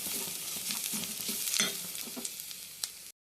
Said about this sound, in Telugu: బాగా ఫ్రై చేయండి.